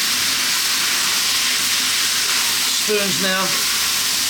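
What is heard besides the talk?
cooked noodles sizzling as they are tossed in a pan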